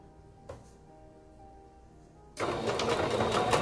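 A sewing machine straight-stitching fabric for a toddler maxi dress starts up partway through, a quiet low hum giving way to a loud, steady whirring run.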